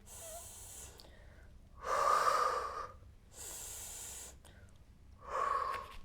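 Heavy, effortful breaths in and out, two strong bursts with quieter breathing between, close to the mic with no talking.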